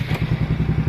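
A repaired Yamaha Mio motorcycle engine idles close by, a steady low throbbing putter with a rapid even pulse and slight clatter, running alone without voices.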